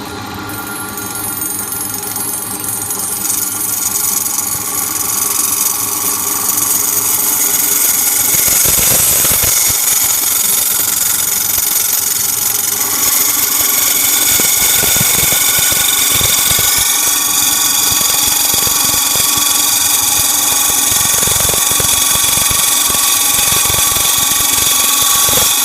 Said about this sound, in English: So it's milled out and drilled out